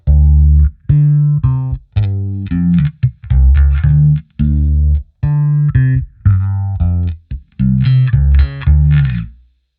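Anagram modulation effect in KosmOS with feedback at default, on a busy melodic line of short sustained tones and chords, loud and close, carrying a swirling, slightly distorted chorus-like shimmer.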